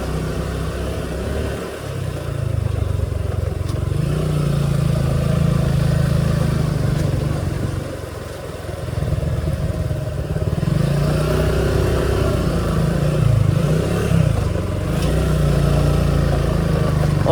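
A motorcycle riding in first gear along an uneven, sandy off-road trail near Madhabpur Lake; a loud, close, steady engine drone with small surges and a couple of brief dips, no voices heard.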